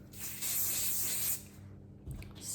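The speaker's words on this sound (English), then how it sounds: "I'm just gonna give it a little" A short hiss of aerosol hair spray, a steady burst of about a second followed by a couple of brief, quieter puffs.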